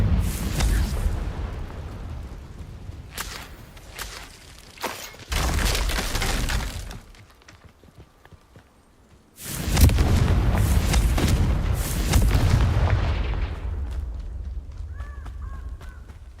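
Confringo spell explosions in the Hogwarts Legacy video game: loud, close blasts with shattering debris burst out in two long clusters, split by a quieter lull.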